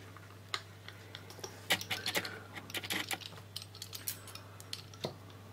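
Knife slicing thin strips from a sheet of puff pastry on a board, a series of light, sharp taps and cuts in quick irregular succession, close and fairly quiet over a faint steady hum.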